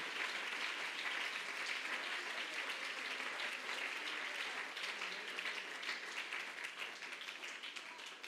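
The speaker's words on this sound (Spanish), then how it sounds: "Alguien que aplauda al Señor, que adore el nombre de Jesús." A church congregation applauds during a Sunday-morning sermon, with steady, dense clapping that holds for about eight seconds and fades slightly near the end, moderately distant and without clear talk.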